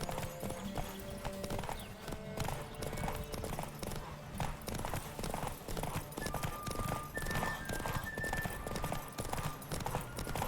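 Rapid clip-clop of galloping horse hooves in The Witcher 3: Wild Hunt drums steadily throughout, with a horse whinny and game music layered underneath.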